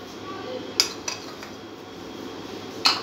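A spoon mixes cornflour and ghee into a paste in a bowl, giving a few light, sparse clinks against an otherwise quiet background.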